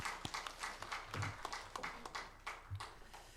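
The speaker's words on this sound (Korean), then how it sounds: "하나님께 영광의 박수를 돌리겠습니다." Church congregation at a Sunday service giving applause to God, scattered and fairly quiet hand claps in an uneven rhythm with a few sharper individual claps, heard from a distance.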